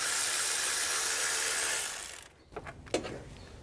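A ratchet loosens the 10mm nuts on the ignition coils of a 2007-2013 Acura MDX. A loud steady broadband rush fills the first two seconds, then fades into a few quiet close clicks and one sharper tick.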